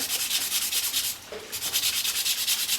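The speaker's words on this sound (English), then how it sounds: "finish up now is just hand sand that with the grain" Steady rhythmic rasping of sandpaper rubbed by hand back and forth along the grain of wood, close by, with a brief pause midway, finishing a piece shaped on a table saw.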